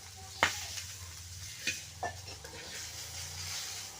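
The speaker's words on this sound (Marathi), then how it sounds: "भाजीला टाकले कांदे आता हे कांदे नुसते बुजून घ्यायचे" Onions frying in oil in a pan for a drumstick-pod vegetable curry, a soft steady sizzle with a few sharp clinks of a spoon stirring against the pan, heard close with no talk.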